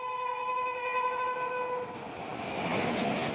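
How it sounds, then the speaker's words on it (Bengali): A train running along the Howrah-Chennai main line, heard as a steady rumbling passage with sustained horn-like tones in the first half that fade out, then a broader rushing wagon noise at moderate distance. "হাওড়া চেন্নাই মেন লাইন দিয়ে একটা ট্রেন বেরিয়ে যাচ্ছে।"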